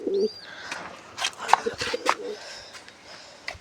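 Pigeons in a loft give soft, low coos and rustle nearby. A person talks intermittently over them.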